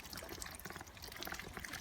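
Dirty water pours and splashes out of a ducks' water container in a yard during wet, slushy weather. It makes a close, continuous gushing trickle for a couple of seconds, with no talk.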